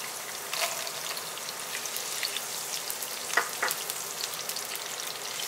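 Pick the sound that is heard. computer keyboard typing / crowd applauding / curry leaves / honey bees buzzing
curry leaves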